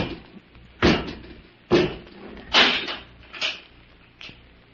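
Door closing as a radio drama sound effect: a series of heavy thuds and scraping knocks, loud and close, spaced about a second apart and fading over the last few, with no voices.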